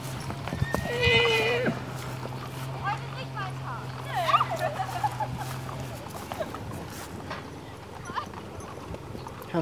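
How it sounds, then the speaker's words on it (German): Approaching horses clip-clop with close hoofbeats, a loud whinny near the start and a steady low hum underneath, while people talk. "Da kommen die anderen Pferde."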